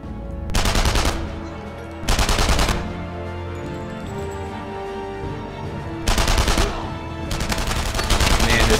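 Automatic gunfire in the video game Enemy Front comes in loud rapid bursts, four separate volleys with quieter game ambience between them.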